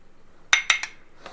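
A spoon scrapes and clinks three times against a pot while a ground fenugreek and cumin spice powder is mixed into a tangy fish curry, crisp taps close together, then quiet.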